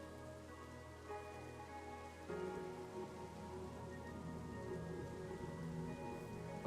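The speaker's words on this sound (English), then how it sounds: "It's raining." Steady rain falls in the Minecraft video game, a continuous soft patter on surfaces that holds for several seconds alongside a quiet tonal background.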